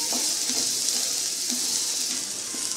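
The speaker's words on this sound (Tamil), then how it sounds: "அதை சேர்த்து நல்லா வதக்கிக்கோங்க" Vegetables for samosa filling sauté in a pan with a steady, continuous sizzle and faint stirring scrapes, close and moderately loud with no voices.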